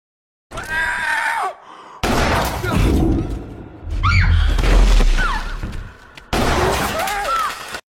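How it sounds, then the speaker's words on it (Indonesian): Gunfire in the horror film Don't Breathe, as a blind old man shoots at two intruders by a basement exit door. Sharp, loud bangs and crashes break out between bursts of vocal cries and film sound. "rupanya tembakan kakek Norman meleset, tidak mengenai Alex dan Rocky"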